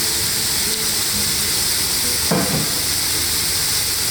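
Daikon radish (mooli) fries in a pan with a steady, close hiss and sizzle, briefly punctuated by a soft stir or clatter partway through, with no voices.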